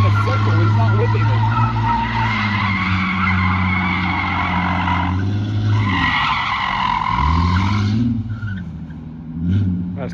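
A car's engine roars at full throttle while its tires squeal and skid loudly and continuously for about eight seconds, the engine pitch rising and falling, before the noise fades into a brief revving tail.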